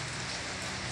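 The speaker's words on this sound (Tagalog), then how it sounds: "Maaga ang ulan." Steady early-morning rain falling on surfaces in the summer, a dense even hiss with a soft low patter, continuous and fairly quiet throughout with no voices.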